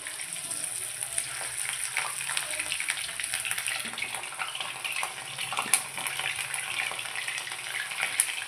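Semolina-coated fish frying in hot oil, producing a continuous crackling sizzle with scattered sharper pops, moderately loud and close, with no voices.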